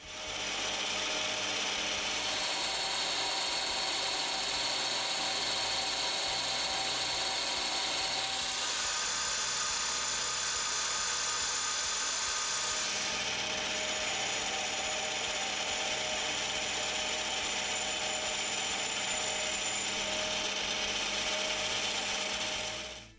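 Cold rolled steel bar being turned down on a lathe to a sliding fit for a 10mm bronze bushing, a steady close mechanical whir with gear chatter that shifts pitch midway through, continuous and alone without talk.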